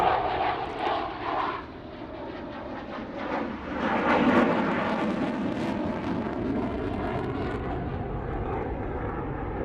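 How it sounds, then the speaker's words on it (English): A Eurofighter Typhoon jet flies past at the Farnborough International Airshow, its engine roaring steadily and loudly, swelling midway and then holding a sustained whine and rumble as it moves away. "Drifting by Eurofighter Typhoon."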